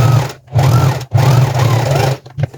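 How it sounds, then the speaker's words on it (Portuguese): Sewing machine stitching the elastic waistband of trousers, a loud close mechanical whir in three bursts separated by short pauses, ending with a couple of quick taps. "eu venho aqui e passo uma costura para poder tombar essa costura aqui"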